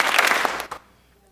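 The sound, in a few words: audience doing a Norse clap, two claps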